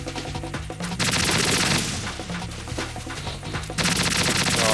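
An AK-47 rifle fires in Metal Gear Solid 2 as bursts of rapid automatic fire over a dense, pulsing game soundtrack. The bursts are loud and close, with brief gaps between them.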